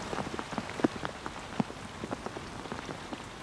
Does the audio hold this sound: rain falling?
yes